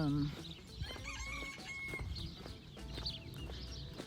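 Roosters crow in the distance along the Camino pilgrimage route, with clucking fowl and other farmyard sounds, while a person talks nearby.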